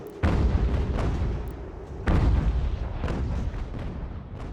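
Field gun artillery booming in Ultimate General: American Revolution, two loud close cannon blasts about two seconds apart, each rolling off into a long rumbling echo, with scattered battle noise beneath.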